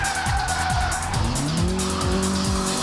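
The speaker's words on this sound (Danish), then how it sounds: "som virkelig træner på speederen og brænder noget gummi af" Rally car at a metal rally event squealing its tires and burning rubber, with repeated engine revs rising and falling over long tire screeches, loud and close.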